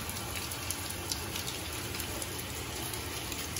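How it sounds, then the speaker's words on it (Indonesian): Steady rain pouring down at night in Sungailiat, Bangka, a dense continuous hiss with scattered drop patters, close and loud with no voices. "Hujan, teman-teman."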